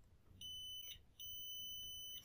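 A multimeter set to continuity mode beeps as its probes touch while testing a Bosch, Profilo and Siemens dishwasher heat pump wash motor. Two steady, high-pitched electronic tones sound close and clear, separated by a brief gap.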